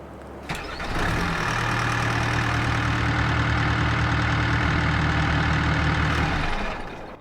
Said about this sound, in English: Oh yeah, definitely different engine sounds.